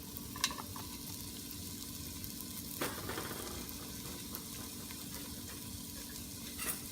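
Celery is added to a pot for clam chowder. It gives a steady, faint sizzle throughout, with a couple of soft knocks early and midway, and no voices.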